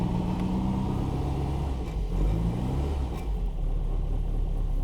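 A 1990 Rover Mini Cooper with a turbo engine idles just after starting with the choke pulled out, a steady close low rumble with small rises in pitch as the revs wander.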